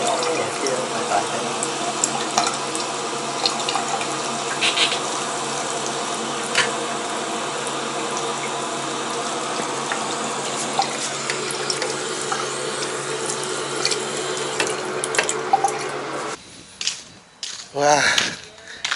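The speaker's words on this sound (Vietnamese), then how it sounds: "Mình sửa cái bathroom faucet, cái vòi nước ở trong bồn tắm, thay cái mới rồi" Water runs steadily from a newly replaced bathroom bathtub faucet, a continuous rushing hiss with faint clinks, then drops off near the end leaving a few brief knocks.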